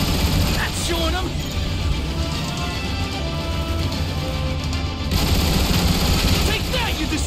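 Turret gun emplacements firing at Decepticon Seekers in the War for Cybertron video game, a steady rapid gunfire rattle running throughout under loud music and game noise, with voices talking over it.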